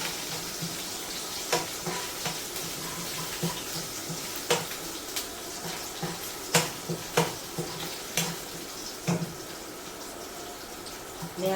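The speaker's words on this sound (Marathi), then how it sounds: "आणि 2 हिरव्या मिरच्या घेतल्या. जरा एक तेलात परतून घ्यायचे आपण" Green chillies and curry leaves fry in oil in a pan, a steady hiss and sizzle with scattered crackles and pops all the way through, close by and with no talking.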